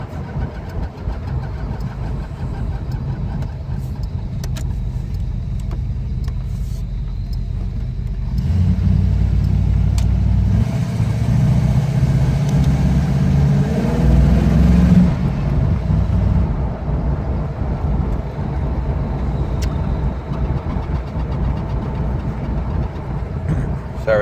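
A 1984 Buick Regal runs with a steady mid-pitched engine hum from inside the car, growing louder as it revs midway, then easing back, with road and cabin noise throughout and no talking.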